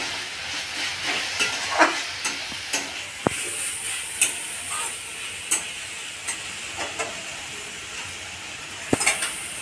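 Drumstick leaves frying in a pan, a continuous sizzle broken by regular scraping stirs and a few sharp metallic clinks of the spatula against the pan, close and unvoiced.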